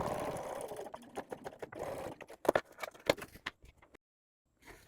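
A sewing machine runs in bursts while sewing a fabric dopp kit seam, with short back-stitching passes in quick, rhythmic runs, brief pauses between them and a silent gap near the end.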